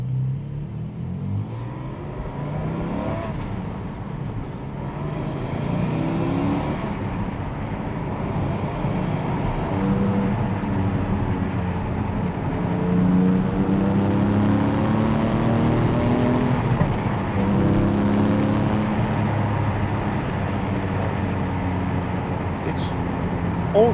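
A Porsche 718 GT4 being driven, heard as a steady close engine drone that builds and climbs in pitch as it accelerates through the gears.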